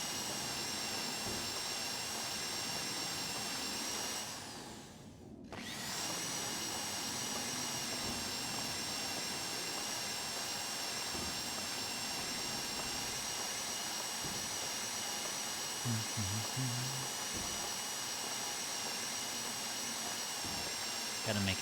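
A mining drill in a GTA roleplay game drones loud and steady, broad and whining, for the whole stretch, cutting out briefly once early on before resuming.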